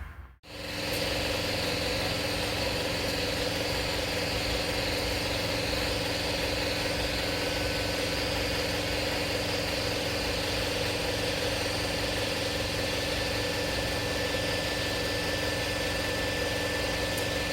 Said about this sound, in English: Just waiting on the air compressor to shut off.